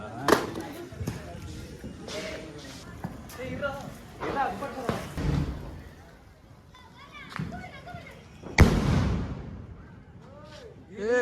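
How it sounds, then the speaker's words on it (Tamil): Diwali firecrackers burst among a group of friends, with a few sharp, loud bangs spaced several seconds apart, the strongest near the start, middle and toward the end, amid lively talking nearby. "நல்லா வெடிச்சு போச்சு."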